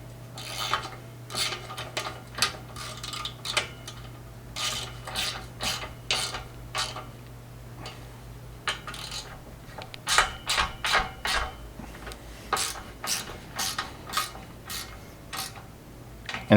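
A ratchet wrench tightens a bolt on a front brush guard bumper being installed on a Polaris Ranger XP 1000. Quick bursts of close, crisp ratcheting clicks repeat in a steady on-off rhythm with short pauses between strokes.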